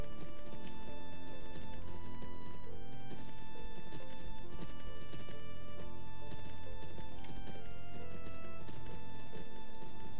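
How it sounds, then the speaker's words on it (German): Rhythmic horse hoof clip-clops in the video game Champions of Regnum sound over a steady layer of music and game ambience, the taps light and fairly regular throughout. "Das ist jetzt ein Pferd vom WMC."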